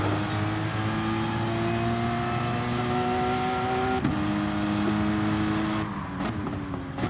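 A race car in a racing video game on the Suzuka circuit revs up through the gears climbing an uphill section, its engine pitch rising steadily, dipping at a shift, then climbing again, loud and continuous with no talk.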